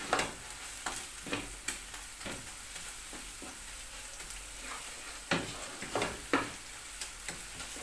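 Tomato paste frying with softened onions in a pot for a lamb, spinach, carrot and potato stew, with a steady soft sizzle broken by repeated spoon scrapes and stirs, fairly quiet and close, no talking.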